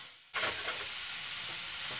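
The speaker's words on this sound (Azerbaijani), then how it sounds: "Soğanı əvvəlcə quru tavaya əlavə edirəm." Chopped onion hits a dry pan and crackles, then sizzles steadily as a spoon stirs it, a close, even hiss with faint scraping and no voices.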